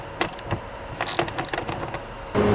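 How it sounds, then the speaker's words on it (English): Ratchet loosening 10mm bolts on the intake tube of a Jeep Wrangler, with a few quick close clicking and metallic clatter bursts, short and separated, ending in a sustained noise. "first we'll loosen off our 10mm bolts here. We've got two of them on the top of the intake tube."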